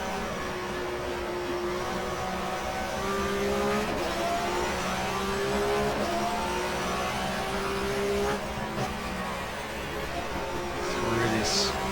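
Race car engine in GTR2 during the 1994 German Touring Car Cup at Zandvoort, droning steadily with rising and falling gear tones as it shifts down, a continuous in-car engine note throughout with no gaps.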